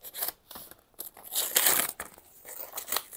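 Pocket knife slicing open sealed plastic packaging, with close, crinkly tearing and crumpling bursts in an irregular rhythm.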